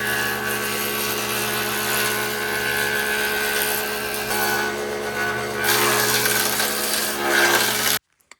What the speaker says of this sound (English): under here, if you open this, there are spinning blades that grind off the bottom